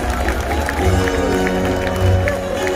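Audience at a SeaWorld San Diego orca show claps and cheers for volunteers, a broad steady crowd roar with scattered claps, loud and sustained throughout, with a voice briefly audible over it.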